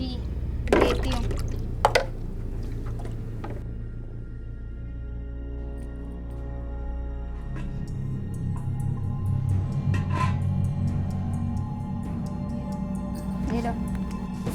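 Water poured into a glass for drinking in a home, a short liquid trickle over a steady low background hum, with people talking nearby.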